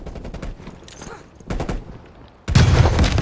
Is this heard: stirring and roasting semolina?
no